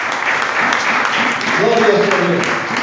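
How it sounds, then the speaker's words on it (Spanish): A church congregation claps together in sustained applause during a worship service, with a voice rising over the clapping partway through. "Dale un aplauso, Señor."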